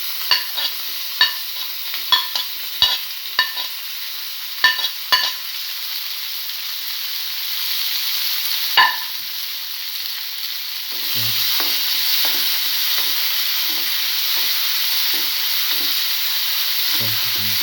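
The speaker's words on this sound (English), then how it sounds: "Now put in the tomato pieces." Tomato pieces fry in a pan with a steady hiss and sizzle, while a utensil scrapes and knocks through the stirring, first in sharp clusters and then under a louder, even sizzle.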